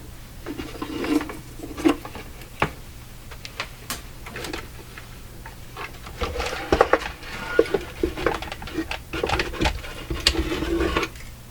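A Philco model 32 tube radio chassis being slid out of its cabinet, with scattered close wooden knocks, scrapes and light clatter in an irregular rhythm.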